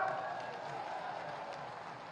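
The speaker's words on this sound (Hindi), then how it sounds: "बनना चाहिए तो हाथ उठा के एक बार तालियों की गड़गड़ाहट के साथ" Applause from a large crowd at a public event in Mainpuri, a dense, even patter of many hands clapping at a distance that holds steady throughout with faint crowd murmur beneath.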